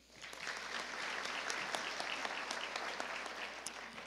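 Audience applause at an engineering school's fall recognition ceremony for graduates: dense clapping from a large hall swells quickly and holds steady for about four seconds, fairly distant and even.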